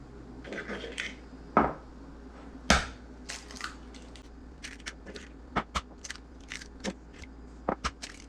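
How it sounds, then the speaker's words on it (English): Eggs cracked one after another on a flat surface and dropped into a separate bowl in a kitchen, giving several sharp, close taps and cracks spread irregularly over quiet background noise, with no talking. "crack on a flat surface and into a separate bowl"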